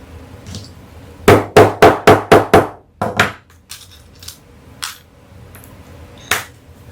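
Snaps being set on a sewn lunch bag give a quick run of six sharp, loud taps in steady rhythm, followed by a few scattered, fainter clicks and knocks.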